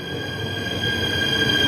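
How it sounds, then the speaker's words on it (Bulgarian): A train pulling into a station, a steady rumbling roll with sustained high metallic wheel squeal ringing over it, growing a little louder partway through and continuing without pause. "Пристигна ми влака."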